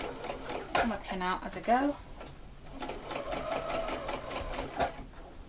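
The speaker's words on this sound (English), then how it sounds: "we're going to sew from that point to this point. Just a straight line stitching." Domestic sewing machine running a straight stitching line to form a mitred corner, a steady close mechanical whir and rapid needle rattle that continues through most of the clip while someone talks over it.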